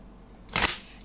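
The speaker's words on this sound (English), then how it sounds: "Let me shuffle this back in" A short burst of oracle cards being shuffled back into a deck, a single close riffle that swells and fades in under a second.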